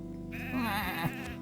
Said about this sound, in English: Look at the sheep.